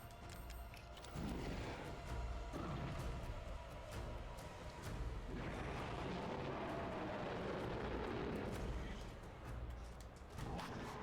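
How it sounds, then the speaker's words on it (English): A pipe bomb goes off in the video game Resident Evil Village, a loud sustained roaring blast with rumbling debris filling most of the stretch, the noise swelling again midway and holding at a heavy level. "Next up, pipe bombs."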